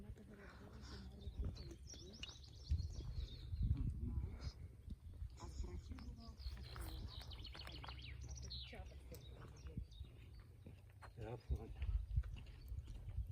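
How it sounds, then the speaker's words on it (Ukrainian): Birds chirping and singing outdoors over a steady low background rumble, with faint talking and footstep-like clatter. "вам чути, які птахи співають, як красиво вони співають"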